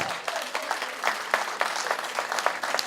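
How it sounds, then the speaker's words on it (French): Wedding guests applaud the newlyweds with a dense, continuous patter of many hands, moderately loud and fairly even, with a few sharper claps standing out. "On applaudit très fort pour les mariés."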